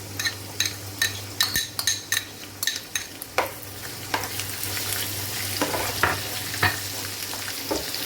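Steady sizzling of onions, ginger and green chilies frying in a pan, with repeated sharp clinks and scrapes of a utensil stirring against the pan.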